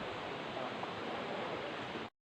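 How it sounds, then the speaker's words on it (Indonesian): River water flowing on Mount Salak, a steady broadband rush that holds evenly loud and close for about two seconds, then cuts off abruptly. "Terdengar suara air mengalir"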